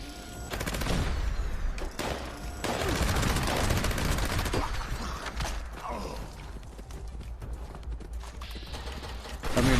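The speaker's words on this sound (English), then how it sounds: "This weapon right here is faster fire rate. This is faster fire rate minigun." A fast-firing minigun in Fallout 76 lets out long, dense bursts of rapid gunfire. The bursts are loud and near, with brief mechanical clicks and creaks between them.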